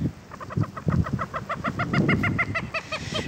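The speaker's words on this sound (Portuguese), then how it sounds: "Ali vem vindo mais pato e ganso ali" Ducks and geese near a large lagoon call loudly and close by in a quick run of repeated honking squawks, with no talking over them.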